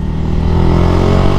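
A Yamaha MX King 150 motorcycle engine runs steadily at idle, a loud, continuous low rumble with a constant hum and no pauses.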